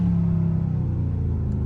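A catless Dodge Scat Pack pulls from a rolling stop in traffic, its deep exhaust rumbling loud and close with a low droning note that stays steady.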